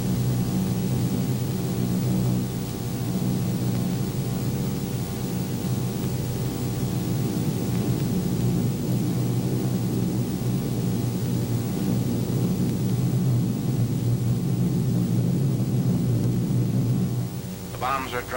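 Eleven B-24 bombers flying in squadron formation produce a steady, dense engine drone with a broad hiss over a deep rumble, unbroken and loud throughout, in old film sound.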